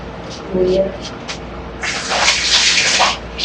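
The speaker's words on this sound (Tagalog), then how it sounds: "Lakas naman ng tubig." A brief voice speaks, then a strong rush of water gushes loudly, like a tap running at full force, for over a second.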